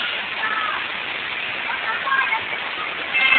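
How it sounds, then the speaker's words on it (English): Heavy typhoon rain and gusting wind in Shatin during a number 8 typhoon signal form a dense, steady, loud wash of noise that swells slightly at the end. "all I can say is it rains sideways a lot, and it's windy"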